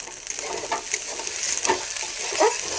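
Beans, carrots and fried rice tossed in a frying pan make a continuous close sizzle with scraping stirs and a few soft knocks of the spatula.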